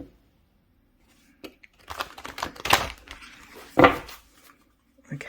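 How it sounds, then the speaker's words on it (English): A deck of tarot cards is shuffled in a few quick riffling bursts, close and crisp, with short papery flutters separated by brief pauses in an otherwise quiet room. "I'm going to shuffle one more time."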